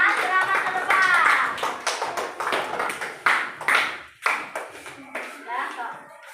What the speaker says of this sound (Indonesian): Tepuk tangan untuk Saka.